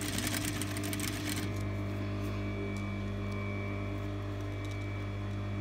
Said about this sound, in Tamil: நீங்கள் பைப்பிங் ஃபுட்டர் வச்சு ஸ்டிச் பண்ணுங்கள்